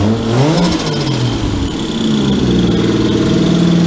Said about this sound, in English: Oh, it's such a rev-happy motor.